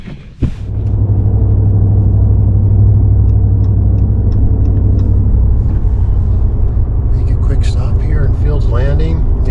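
A car travels along a road near Fields Landing on Humboldt Bay, giving a loud, steady, close-up rumble of engine and tyre noise that runs unbroken from start to finish.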